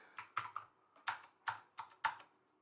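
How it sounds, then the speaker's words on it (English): Bursts of keystrokes on a computer keyboard, about six quick clusters of clicky taps spaced roughly evenly, close and fairly quiet, with no talking. "Why isn't my keyboard doing anything?"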